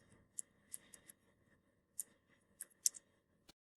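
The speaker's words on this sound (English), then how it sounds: "typing in the subnet mask." Keystrokes on a computer keyboard while network settings are entered, a sparse run of soft, separate clicks close by and quiet against a silent background.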